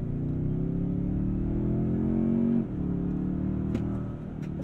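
A 2022 Toyota Tundra 1794 Edition with a 3.5-liter twin-turbo hybrid V6, accelerating in sport mode: a steady, close engine drone climbs in pitch, dips briefly at a gear change, then pulls on.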